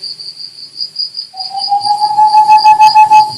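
A voice imitates a black grouse call in a puppetry performance: a sustained whistled tone that swells and pulses in loudness, over a steady high-pitched insect-like drone.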